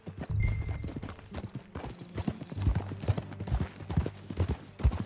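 Horse hooves clip-clop steadily in Red Dead Redemption 2, a ridden horse on a game trail, the close, fairly loud rhythmic footfalls continuing throughout with a brief whinny-like tone near the start and no talk.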